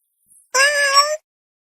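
A single clear cat meow, drawn out for about half a second and heard close up against silence.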